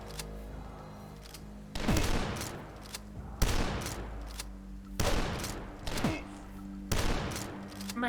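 Enemy shotgun fire in the retro shooter Dusk, with five loud, booming blasts spaced roughly every second and a half, each followed by a short rumbling tail.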